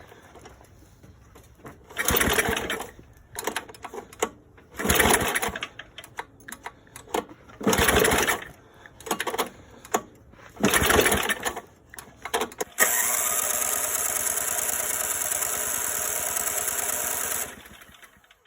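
A Toro snowblower engine being started, with repeated pull-starter attempts in short rough bursts, then the engine catching and running steadily for several seconds before stopping.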